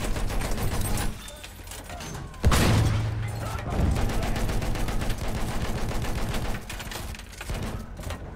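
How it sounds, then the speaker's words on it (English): Enemy machine gun fire in Battlefield 1 rattles in rapid bursts, with a heavy boom partway through and sustained gunfire continuing after it, loud and close. "Enemy machine gun!"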